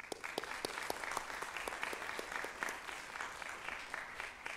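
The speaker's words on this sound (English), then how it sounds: "earned round of applause." Applause from a school assembly audience at a senior school, a steady patter of many hands clapping at moderate distance, continuous throughout without talk.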